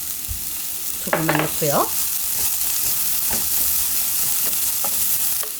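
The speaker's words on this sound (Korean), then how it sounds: "고추가 좀 익게끔 달달달달 볶아줘야 돼요" Chili peppers stir-fry in a pan over medium heat, a continuous loud sizzle with spatula scrapes and clacks, while someone speaks briefly near the start.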